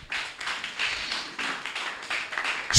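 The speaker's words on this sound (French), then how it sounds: "Applaudissons l'Éternel très fort." A church congregation claps at a Sunday service, a burst of many hands with rhythmic pulses rising and falling over nearly three seconds, ending in a sharp loud knock.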